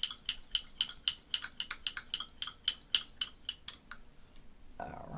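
A utensil stirs a coconut-lemon lip oil mixture in a small container, producing a close, regular series of light metallic clinks and ticks, about three per second, slowing and stopping near the end.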